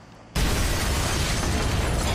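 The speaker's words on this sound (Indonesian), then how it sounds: "rumah tersebut meledak menjadi berkeping-keping" A house explodes into pieces in a film scene, starting as a sudden loud blast that becomes a dense, sustained roar of debris and rumble across the whole sound, with no talking.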